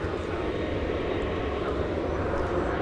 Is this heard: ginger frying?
no